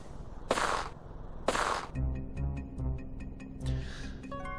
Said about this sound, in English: Several gunshots ring out close by.